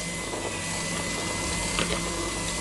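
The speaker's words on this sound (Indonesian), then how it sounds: "ini kita kocok" An electric mixer whirring steadily while beating butter, margarine and sifted powdered sugar, close and continuous with a constant motor drone and no talking.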